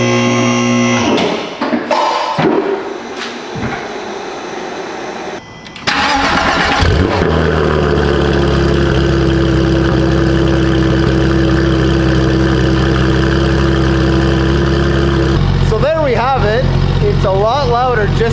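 Porsche GT3 RS with a newly fitted Dundon exhaust cranks and fires after brief talk and clatter, then settles into a loud, steady, rumbling idle that fills the rest of the clip, with a few throttle blips near the end.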